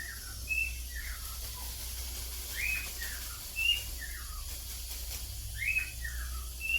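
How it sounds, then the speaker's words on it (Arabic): Small birds, sparrows, chirp outdoors on a farm: repeated short bright calls in loose bursts, fairly near, over a low steady hum with no talk. "تسمع صوت العصافير زي كده"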